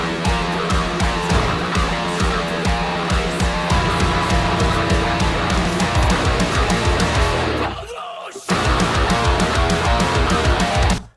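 A dense, loud mix of distorted electric guitars chugs in a driving rhythm, then thins as the left and right guitars stop and only the center guitar keeps playing after a short break.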